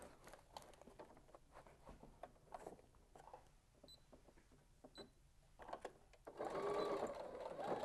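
Sewing machine stitching a half-inch seam on a sleeve or cuff, running in a steady rapid patter with brief pauses and back-stitching, growing louder and denser near the end.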